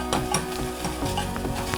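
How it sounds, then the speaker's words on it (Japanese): Dry bonito flakes (katsuobushi) toast in a dry pot for miso soup, giving a close, steady sizzle with scattered dry crackles and light stirring scrapes. "チリチリと言ってきました"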